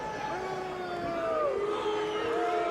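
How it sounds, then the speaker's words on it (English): Crowd at a 2013 WSOF 4 MMA event reacting with displeasure, a continuous roar of voices and whoops that swells slightly toward the end, heard from inside the arena. "Jason, you hear the crowd. They're unhappy right now."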